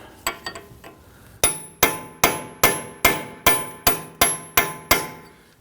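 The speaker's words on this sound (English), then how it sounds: "punch in the center, and then give it a few smacks with the hammer" Hammer smacking a steel punch set against the rear brake dust shield of a 2013-2019 Ford Explorer Interceptor: a few light taps, then about nine loud, evenly spaced metallic strikes ringing briefly, close up with no talk.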